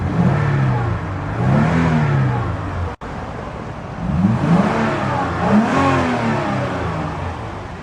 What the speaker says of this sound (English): These engines have such a throaty rumble to them.